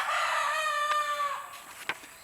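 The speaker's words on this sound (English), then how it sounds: "I apologize for the rooster crowing." A rooster crows in a single sustained, tonal call that fades out midway, followed by a few faint knocks in an otherwise quiet setting.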